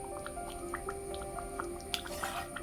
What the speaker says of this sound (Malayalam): ലോ ഫ്ലെയിമിലാണെങ്കിലും കറി നന്നായിട്ട് തിളയ്ക്കുന്നുണ്ട്